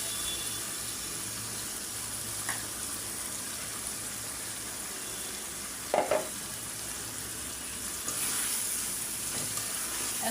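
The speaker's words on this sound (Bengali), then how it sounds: "এখন মশলাটা ভালো করে মুরগি কষায় নেব" Chicken pieces fry in a pan with a blended paste of onion, green chili, cardamom and cinnamon, giving a steady close sizzle throughout, broken by a brief clatter of stirring near the middle.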